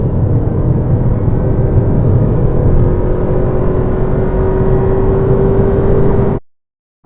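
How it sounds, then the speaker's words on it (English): A 2025 Toyota Prius hybrid's petrol engine drones steadily while accelerating hard, a loud, constant whirring hum with a slowly rising tone that runs unbroken, then cuts off abruptly at the end. "it has a type of gearbox that just makes the engine drone a lot, especially when you're trying to get up to high speed quite quickly"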